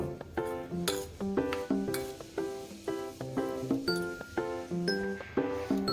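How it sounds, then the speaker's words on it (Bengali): A batter with two kinds of paneer is mixed in a bowl for a quick breakfast recipe. A spoon clinks against the bowl in a quick, steady rhythm, with ringing strikes about twice a second. "দু রকম পনিরই এতে দিয়ে দেব দিয়ে ভালো করে এটা মিক্সড করে নেব"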